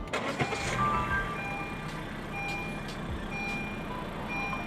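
A Honda Fit RS (GK5, six-speed manual) starts with a short cranking burst, then settles into a quiet engine idle with faint high electronic beeps over it.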